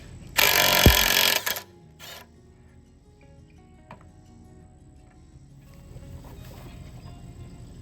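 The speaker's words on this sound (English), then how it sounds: "I got a little cobalt impact wrench, and I'll get another wrench for the bottom and try to work it out." A Cobalt impact wrench hammers loudly in one short burst on the tine bolts of a Pequea TT4101 turbo tedder, then falls silent, leaving faint clinks and quiet surroundings.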